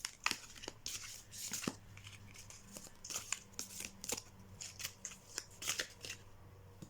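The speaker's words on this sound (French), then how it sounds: "C'est un peu dur à mélanger car il y en a beaucoup quand même pour un oracle" A large deck of sixty oracle cards shuffled by hand makes repeated close riffling and flapping bursts in an uneven rhythm, with no talking.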